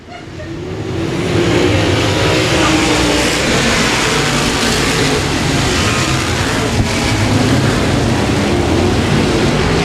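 Race cars roar around the Boothill Speedway oval, running three wide down the back straight, a loud continuous engine drone that swells in after the first second and holds steady without pause.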